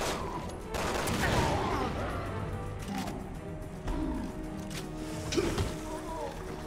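Resident Evil 6 gameplay with bursts of gunfire at a monster, sharp repeated shots loud in the mix. Players talk between and over the shooting.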